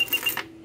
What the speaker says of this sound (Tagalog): maghulog tayo ng barya, equivalent ng 100 pesos